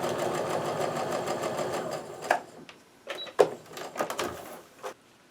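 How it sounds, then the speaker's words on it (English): A sewing machine stitches a quilt seam, a fast mechanical whirring run that breaks into short bursts and pauses as the fabric is guided, ending in a few quick stitches. "I'm going to make sure my corners are lined up, and I'm going to keep on sewing."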